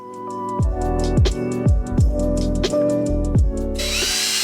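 A power drill bores holes in the drawers of a new desk, several short bursts of motor whine that rise and fall in quick succession, close and loud.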